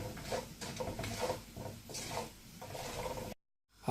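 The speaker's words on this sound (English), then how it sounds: "Now the ghee is melted and hot enough. I'm just throwing in the whole spices and also cumin seeds." Whole spices and cumin seeds crackle and sizzle in hot melted ghee, a close, busy spitting patter with stirring that stops abruptly near the end.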